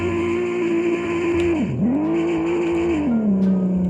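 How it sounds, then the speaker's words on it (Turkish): A car drifting in a Roblox game: a loud, continuous engine whine that dips sharply in pitch mid-slide, climbs back, then settles lower, heard alone without speech. "Bol bol drift atarsınız arkadaşlar böyle."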